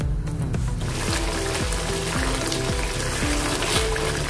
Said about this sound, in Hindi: मैंने मिक्सी जार को धो दिया है, वही पानी इसमें डालेंगे